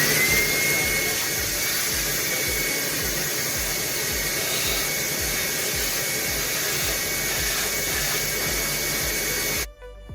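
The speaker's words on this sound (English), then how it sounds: "you can see me using my shop vac to really clean out the filters" A shop vac sucks debris out of the filters of a Bissell PowerForce bagless vacuum, a loud, steady whining roar that runs unbroken and cuts off abruptly at the end.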